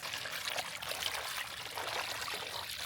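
Steady running water pours and trickles over raw beef as it is rinsed for a village-style beef bhuna, a close, continuous splashing stream with no break.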